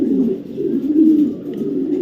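Low, continuous cooing rolls from a male racing pigeon of BRPEL club stock, close and fairly loud, a warbling drone with slight swells, with no voices.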